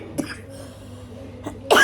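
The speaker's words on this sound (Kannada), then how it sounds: "ಕೆಮ್ಮು ಬಂತು" A person coughs close to the microphone, with a short cough at the start, a faint one midway and a sharper, louder burst at the end, set against a quiet indoor background.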